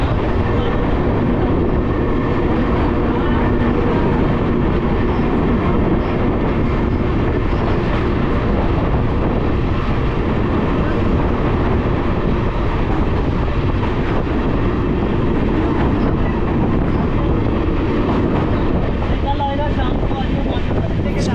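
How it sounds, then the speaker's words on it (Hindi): The 14674 Shaheed Express train rumbles along the tracks continuously, loud and close, with rushing wind noise throughout. "गड्डी आ गई पिछे, गड्डी आ गई"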